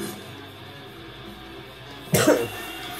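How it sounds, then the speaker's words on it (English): A single sharp cough bursts out near the end, close and loud, after a quiet stretch of low background sound while a game of DmC Devil May Cry plays. "I coughed."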